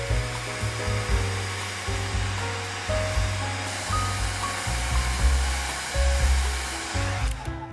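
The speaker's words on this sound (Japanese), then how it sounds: "これくらいに溶けたらドライヤーを使って乾かしていきます。" A hair dryer blows continuously at close range to dry dissolved watercolor pencil paint on paper edged with masking tape, a steady loud whoosh with shifting low hum.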